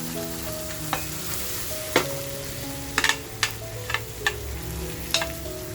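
Tiger prawns frying in a pan over a full gas flame, a steady close sizzle punctuated by sharp pops and spatters at irregular moments, moderately loud with no voices.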